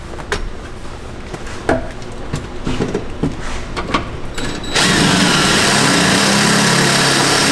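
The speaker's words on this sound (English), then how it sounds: "now we're going to go ahead and drill our hole in the front of the pipe" Power drill boring a hole through the tubular steel pipe of a UTV roll cage, starting after scattered handling clicks and taps, then a loud, steady high whir running continuously close by.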